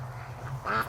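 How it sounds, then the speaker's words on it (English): Ducks quack near a farm pond area in a single short burst, fairly close and moderately loud over quiet outdoor background. "Actually, I'm gonna get the ducks here."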